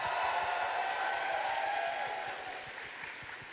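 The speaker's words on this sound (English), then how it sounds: "Can you give them a round of applause?" A convention audience at a BronyCon closing ceremony applauds the talent show performers, sustained crowd clapping that is steady at first and slowly thins and softens toward the end.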